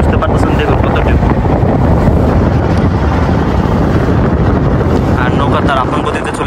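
A boat travels across the choppy, wavy Meghna River, with a loud, constant rumbling drone and heavy wind buffeting that persist unchanged throughout.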